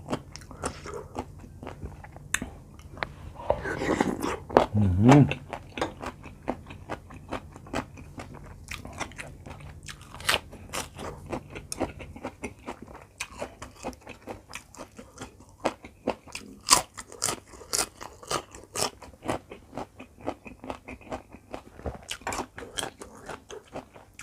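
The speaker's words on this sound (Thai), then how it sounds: "กินส้มตำมีผักเยอะๆ นี่มันอร่อยเนาะทุกคน" Crunchy bites and chewing of som tam papaya salad loaded with vegetables, close and intimate, with repeated sharp crunches throughout and a louder burst of biting early on, no talking.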